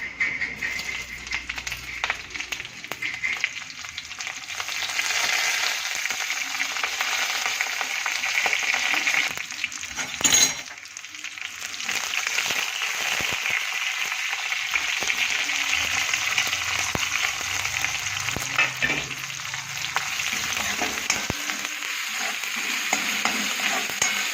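Green chilies, curry leaves and ginger-garlic paste fry in a pan with a continuous loud sizzle and crackle, broken by occasional stirring scrapes and a brief clatter near the middle, heard up close without speech.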